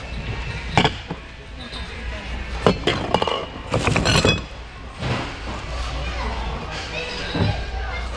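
Glass items clink and knock as they are sorted by hand at a thrift-store bin, with sharp, irregular taps among a murmur of background voices.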